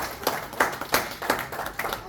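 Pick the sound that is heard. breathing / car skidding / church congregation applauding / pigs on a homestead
church congregation applauding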